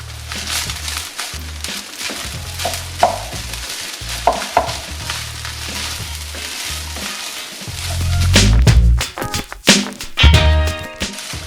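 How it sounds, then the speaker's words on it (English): Eggs tipped into a hot pan of fried rice and stir-fried, with steady sizzling under scraping and stirring of a utensil against the pan, swelling to a louder hiss and clatter toward the end; nobody speaks. "I am happy with that colour of the fried rice, and I am now going to add our eggs"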